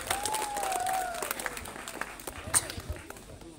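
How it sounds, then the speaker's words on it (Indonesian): An audience applauds a child storyteller at a children's Bible storytelling competition, a light patter of clapping under a presenter's voice that fades into scattered claps. "mari kita berikan tepuk tangan untuk anak dari Goluwatu"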